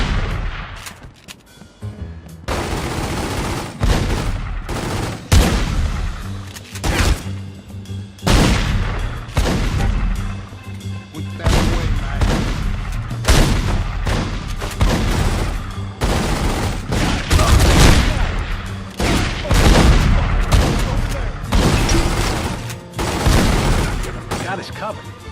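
Heavy gunfire rattles through a shootout in The Godfather 2 video game, with loud bursts and booming shots repeating almost nonstop, and voices shouting in between.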